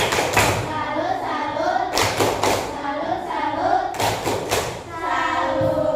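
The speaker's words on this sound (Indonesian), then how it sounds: "Beri tepuk salut untuk kelompok 4. Tepuk salut." A classroom group doing the rhythmic tepuk salut salute clap, loud bursts of hand claps and thumps in short patterned phrases, with children's voices chanting along in between.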